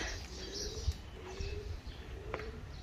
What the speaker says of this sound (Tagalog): Oh, tapos yun yung mga ibon sa taas.